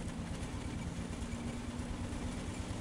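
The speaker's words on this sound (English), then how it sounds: "I didn't hear it before, but I do now hear the engine pumping away." Armored car engine in the World War I game Battle of Empires 1914-1918, a steady low, rumbling idle-like drone that runs continuously and fairly loud with no other sounds.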